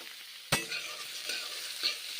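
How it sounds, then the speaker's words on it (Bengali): Papaya pieces frying in a pan with onion and five-spice, a low steady sizzle broken by a sharp scrape of the spoon and a couple of softer stirring strokes. "এখন পেঁপেগুলো ভালো করে ভেজে নিচ্ছি।"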